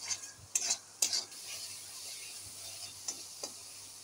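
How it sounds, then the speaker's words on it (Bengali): Spice masala for chicken kofta curry being stirred and fried in a pan, with a steady soft sizzle and a few sharp scraping strokes of the spoon near the start and end, no talking. "দিয়ে ভালো করে মিশিয়ে মশলাটা কষিয়ে নেব।"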